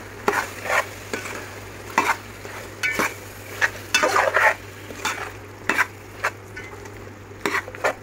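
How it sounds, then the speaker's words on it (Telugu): A spoon scrapes and stirs through a pan of sizzling chicken curry as chopped budam cucumber is mixed in, with repeated clattering strokes over a steady background fry. "ఇందులో ఇప్పుడు కట్ చేసుకున్నటువంటి బుడం దోసకాయలను వేసి బాగా కలుపుకోవాలి."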